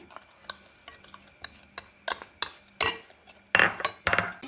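Utensil stirs a milk mixture with jaggery in a metal pot, scraping and clinking against the sides in repeated strokes, growing louder toward the end, with no voices.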